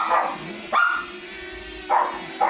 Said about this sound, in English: I can't be bothered listening to the dog